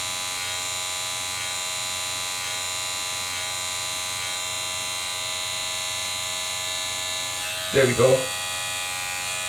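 Electric hair clippers buzz steadily and close while tapering a self-given line-up haircut, a constant humming drone with a short spoken remark near the end.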